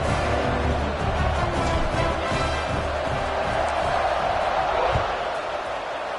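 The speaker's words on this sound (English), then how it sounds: "this crowd is buzzing after that last score" A large stadium crowd at an American football game keeps up a dense, continuous roar and buzz after a score, steady and enveloping throughout, with a broadcast commentator's voice mixed in.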